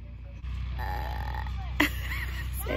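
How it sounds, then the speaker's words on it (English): A young girl burps once, a short low croaky belch at a hot lakeside, heard over a steady low hum. "I burped."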